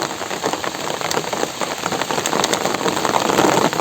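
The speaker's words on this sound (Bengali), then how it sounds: "বৃষ্টি শুরু হয়েছে আবার" Steady rain patters on surfaces beside a village river, a dense continuous hiss with scattered louder drops that builds slightly toward the end, close and loud with no voices.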